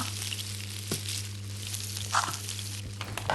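Sizzling of meat frying in the Toca Kitchen video game, a steady broadband hiss over a low constant hum with a few soft clicks, no talking.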